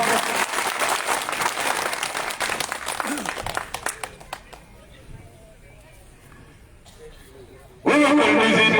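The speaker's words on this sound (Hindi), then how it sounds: "जोरदार तालियों के साथ में स्वागत" Crowd applause welcoming a BJP election candidate at a village panchayat campaign rally, dense clapping for several seconds that thins out, then a sudden loud burst near the end.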